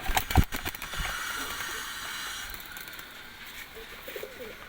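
Pigeons for sale, two pairs of males and females, coo softly in the background amid faint rustling and a few close knocks and handling noises.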